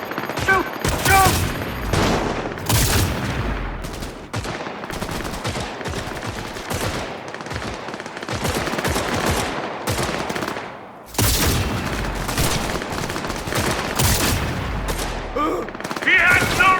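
Rapid automatic gunfire rattles through a firefight in Cyberpunk 2077, with dense bursts of shots and loud cracks continuing almost without pause, and shouted voices mixed in.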